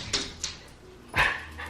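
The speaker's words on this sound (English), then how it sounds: "hopefully there are no more outbursts from my dogs" Pet dogs indoors giving a few short yips and whimpers, then one louder bark near the end, close by in a quiet room.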